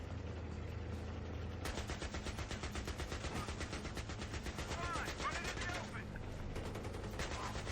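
AK rifle fire in Battlefield 3 rattles in rapid automatic bursts almost without pause, loud and steady, with faint voices beneath the shooting.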